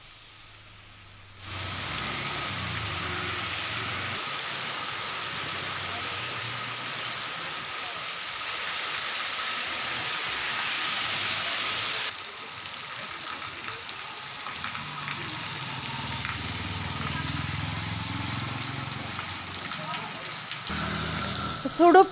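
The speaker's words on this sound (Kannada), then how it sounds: "ಉಡುಪಿಯಲ್ಲೂ ಕೂಡ ತುಂತುರು ಮಳೆ ಮುಂದುವರೆದಿದೆ" Light drizzling rain in Udupi falls as a steady, even hiss of drops that continues for most of the stretch, with faint speech-like murmur underneath and a brief louder knock right at the end.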